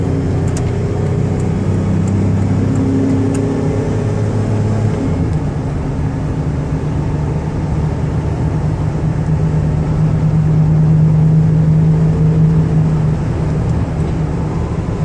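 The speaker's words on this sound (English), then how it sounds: "I'm going to give it a little gas so you can hear the engine run and the transmission shift." A 1999 Dodge Caravan LE wheelchair van with about 80,000 miles accelerating on the highway toward 70 mph, steady loud engine drone and road rumble with a low tone that shifts partway through, no talking.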